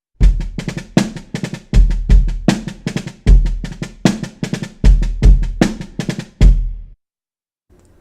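A drum kit plays a 4/4 groove with upbeat doubles in the right hand: loud, close, punchy hits with deep kick thumps in a steady repeating pattern. It stops abruptly near the end and leaves silence.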